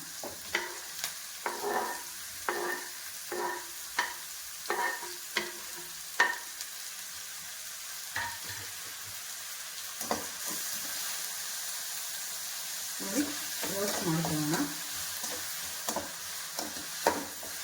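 Chilli and tomato go into a hot pan for an okra stir-fry, giving a continuous sizzle and frying hiss, broken by repeated close scraping strokes of a spoon stirring, with a louder bubbling burst near the end.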